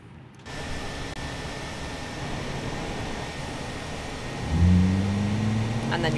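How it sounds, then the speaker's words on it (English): An Airbus A330-900neo jet engine spools up during start: a broadband whoosh rises suddenly, then a low tonal whine climbs and strengthens over several seconds, loud and steady. "And then you'll hear that sound as the engine's starting up"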